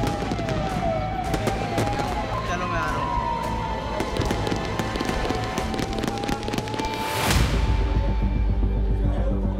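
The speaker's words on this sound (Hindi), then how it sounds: "इन तस्वीरों में अभी भी धमाकों की आवाज सुनाई दे रही है" A dense, chaotic wash of noise with sirens wailing, then a sudden loud boom-like burst near the end, against constant background commotion, during explosions at a factory in Harda.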